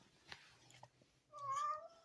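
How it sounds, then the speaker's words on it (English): A domestic cat meows once near the end, a rising, nasal tonal call after a few faint soft taps and rustles in a quiet room. "It's Litos the cat"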